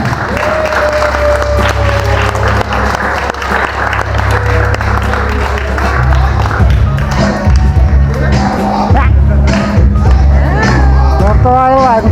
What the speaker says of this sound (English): Our birthday girl, let's give a round of applause for